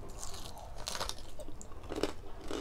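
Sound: chewing crispy lechon kawali (fried pork belly)

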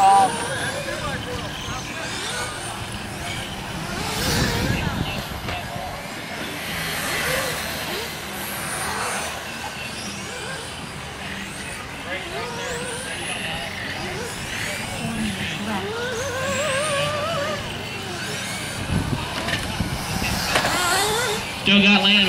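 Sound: radio-controlled on-road cars racing

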